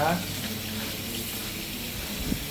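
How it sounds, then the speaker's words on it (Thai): Water runs steadily from a tap into a sink as hands are washed, a continuous close hiss that fills the whole moment with no speech on top. "ทำอะไรมาถึงต้องล้างมือคะเ พราะว่าไปให้อาหารปลามาหรอเลยต้องล้างมือใช่ไหมคะ"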